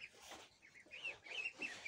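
Broiler chickens over a year old in a pen, soft clucks and murmuring calls repeating close by, faint and with no talk.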